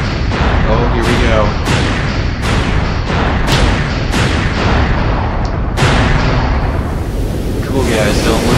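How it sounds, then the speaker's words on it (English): Loud, close explosions in the video game Sonic Adventure 2, about eight sharp booming blasts in quick irregular succession, each trailing off into rumbling noise before the next hits. "Cool guys, don't look at explosions."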